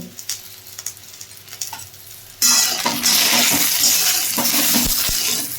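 Quiet clinks and scrapes of a wok give way suddenly to a loud, close hiss as eggplant hits hot oil, then a steady sizzle with scattered pops continues to the end.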